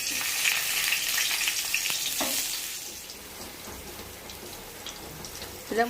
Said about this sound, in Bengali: আমরা শুকনা মরিচ আগে বাইজে নিতেছি।